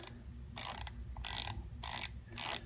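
Ratcheting torque wrench and Allen wrench tightening the two set screws on a pulley from a CF-120 diesel pump, four short bursts of rapid clicking separated by pauses, close and fairly quiet.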